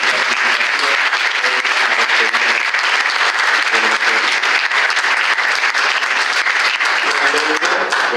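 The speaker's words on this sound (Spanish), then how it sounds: "darles un fuerte aplauso también" An audience at a book launch for "Las caras y taras del racismo" breaks into strong, sustained applause, a thick, even wash of clapping from many hands that carries on without a break.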